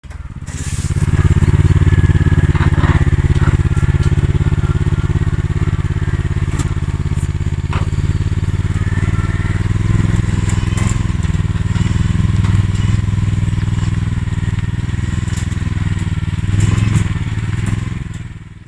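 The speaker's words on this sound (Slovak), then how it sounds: "Traktor s nákladom je už z lesa vonku." A loaded farm tractor fitted with dual wheels drives out of a forest on a muddy track, its engine a steady, loud diesel rumble with occasional clatter and thumps, heard close throughout.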